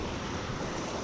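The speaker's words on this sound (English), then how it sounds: "So here I am at the Pacific Ocean." Pacific Ocean surf breaking on the shore at the edge of the Los Angeles Basin, heard as a steady, loud wash of broadband noise with wind buffeting the microphone throughout.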